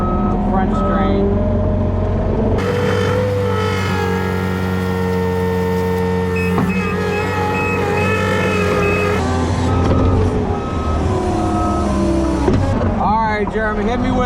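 A concrete truck with faulty hydraulics reversing at a garage and pool pour, its engine rumbling loudly and steadily with a tonal whine and beeping throughout.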